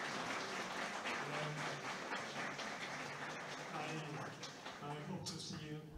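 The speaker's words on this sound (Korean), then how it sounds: "그래서 큰 박수 한번 부탁드리겠습니다" Closing session of a global citizenship education conference, with steady audience applause filling the hall, dense and continuous but fairly faint and distant throughout.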